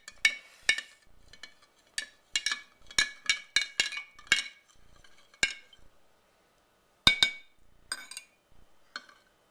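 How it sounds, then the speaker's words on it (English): Salt being stirred into water in a glass container, heard as a series of sharp clinks and taps in uneven clusters with a pause midway, then a few more, all close and fairly quiet. "And now stir it in until you've reached the maximum amount of salt that can dissolve"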